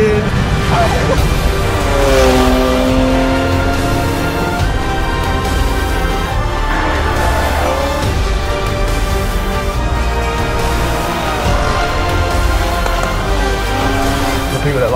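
A Jaguar XE driven around the Spa-Francorchamps circuit gives a loud, sustained engine roar, with rising and falling pitch sweeps as it accelerates and shifts through gears.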